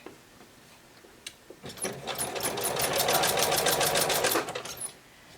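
A sewing machine stitches elastic onto underpants, starting with a few short taps, then running in a fast, even buzzing burst for about three seconds before stopping, close and alone.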